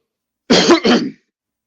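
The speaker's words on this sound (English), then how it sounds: "I'm gonna cough" Two quick, wet coughs in close succession, loud and near, with silence before and after.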